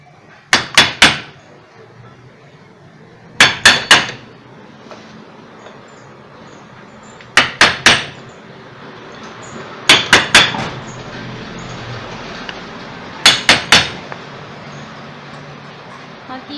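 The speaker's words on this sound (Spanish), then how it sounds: "voy a darle unos golpes aquí con una tablita, un martillo" Hammer blows against a wooden board used to knock the lid off a noisy orange juicer, struck in five quick bursts of two or three sharp knocks each, close and loud over a low room hum.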